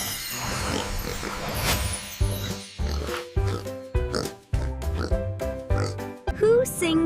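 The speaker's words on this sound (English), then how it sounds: "It's a pig." A pig oinks and grunts in a rapid series of short, close bursts, with a brief squeal near the end.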